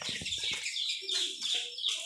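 A brood of chicks peeps continuously in high, busy chirps, with a few lower clucks from a hen nearby. No one speaks.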